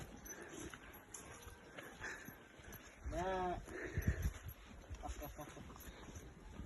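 A goat gives one wavering bleat close by in a village yard in Lankaran, Azerbaijan, amid rustling and low background noise.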